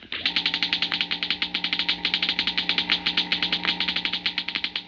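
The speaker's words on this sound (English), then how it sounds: "The crackling comes from a model atom smasher" A model atom smasher gives off a rapid, steady crackling pulse, dozens of sharp ticks per second over a constant electrical hum, moderately loud and uninterrupted for several seconds.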